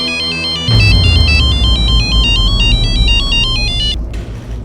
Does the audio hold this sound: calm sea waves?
no